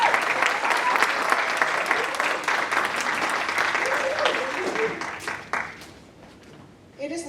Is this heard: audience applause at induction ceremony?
yes